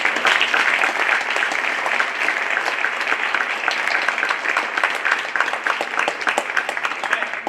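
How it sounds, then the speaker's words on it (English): Steady, dense audience applause fills a middle school winter concert hall, loud and unbroken from start to finish with no voices over it. "So a round of applause for you all."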